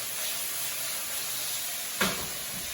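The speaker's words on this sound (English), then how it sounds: "These are gonna have to steam a little bit anyways." Potatoes sizzle and steam in a pan, a steady soft hiss close by, with a brief clatter near the end.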